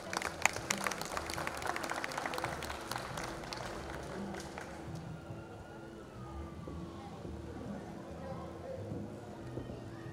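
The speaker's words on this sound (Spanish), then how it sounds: "Fuertes los aplausos para recibirlo." Audience at a public civic session in a small Ecuadorian town applauding to welcome a speaker, a dense burst of clapping that fades after a few seconds into a quieter murmur with a faint siren-like tone.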